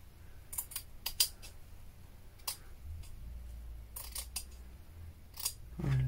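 Scissors snip along the edges of a fabric label, trimming it neat for a junk journal: a series of short, crisp cuts in small clusters, close and fairly quiet, with no talking.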